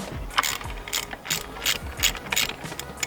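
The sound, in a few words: ratchet loosening engine bolts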